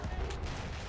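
Ammunition cooking off in the World War I shooter Battlefield 1, a dense, continuous crackle of gunfire-like bursts and booms filling the full second at steady, loud level.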